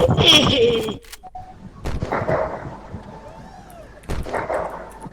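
Gunfire in the video game Unturned: a loud burst of shots at the start, then sharp isolated reports and another burst near the end over game ambience. Players talk in the background.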